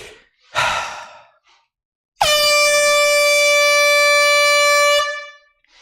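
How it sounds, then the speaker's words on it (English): A brief breathy sound, then a loud, sustained air horn blast lasting nearly three seconds before cutting off. "Tanner, air horn's coming out."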